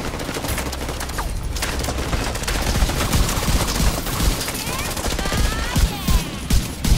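Sustained gunfire during a Division 2 game boss fight, with rapid automatic bursts and scattered single shots that are loud and dense throughout and sharper thumps toward the end. A voice talks faintly underneath.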